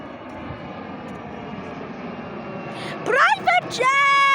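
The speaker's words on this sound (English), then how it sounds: "Bro, they take off the private jet." A private jet taking off: a steady, loud engine roar fills the clip, rising with sharp whining tones near the end, while people talk excitedly over it.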